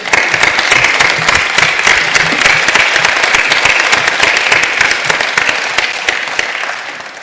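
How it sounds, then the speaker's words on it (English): Council members applaud at a full council meeting, a steady, loud burst of many hands clapping that holds throughout and fades slightly at the end. "A round of applause, please."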